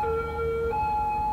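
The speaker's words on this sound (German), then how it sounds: "Zwischendurch mal das Martinshorn an" An emergency vehicle siren in the video game Cities Skylines: a loud two-tone horn stepping from a lower to a higher pitch, close and alone over a low engine rumble.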